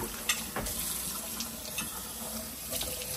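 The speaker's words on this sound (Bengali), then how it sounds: "বাসন মাজছে" Dishes being washed at a kitchen sink under a running tap, a steady close hiss of water with light clinks and knocks of utensils throughout.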